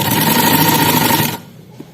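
A sewing machine runs steadily while stitching a belted cut shalwar, a loud continuous mechanical hum with a constant tone, then stops abruptly near the end, leaving quiet room sound and one faint tap.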